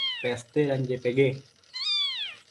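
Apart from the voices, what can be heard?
cat meowing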